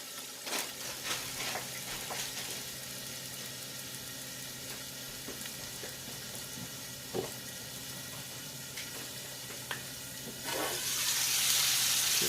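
Onions and a little pepper cooking in a pan for keto chicken tacos, a soft steady sizzle with occasional utensil clicks and taps, growing louder and brighter near the end.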